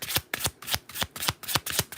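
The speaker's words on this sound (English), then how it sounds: "The way I shuffle my deck has nothing to do with the way you shuffle yours." A deck of tarot cards shuffled by hand in about seven quick, evenly spaced riffling bursts, close and crisp, with no talking.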